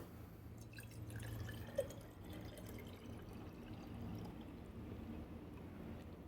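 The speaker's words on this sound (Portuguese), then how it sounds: "Vamos colocar a água." Water is poured into a glass cylinder, a soft, steady trickle with a single faint drip-like plink, quiet and close with no talking.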